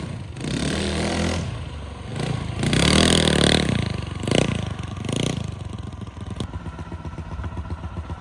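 A 25hp mini quad's engine roars close by on a test ride, revving hard and surging with throttle changes before settling into a rougher, pulsing drone, with some rattling clatter throughout.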